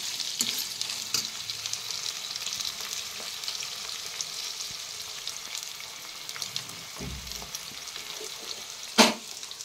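Potatoes fry in a pan with a steady, close crackling sizzle that runs throughout, broken by occasional stirring scrapes and a sharp clatter near the end.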